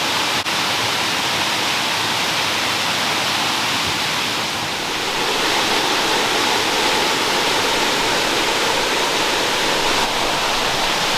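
Waterfall roaring through the Royalston Falls gorge, a steady broadband rush of falling water heard close and loud for the whole stretch, with no speech.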